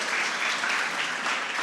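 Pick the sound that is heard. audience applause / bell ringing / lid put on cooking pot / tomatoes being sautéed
audience applause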